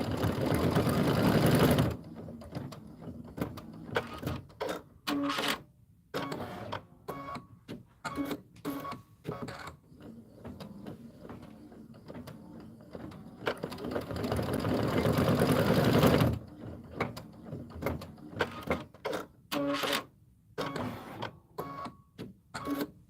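A machine-embroidery unit stitches a design in the hoop, a rapid mechanical needle chatter that runs in long bursts broken by brief pauses, loud and close with no talking.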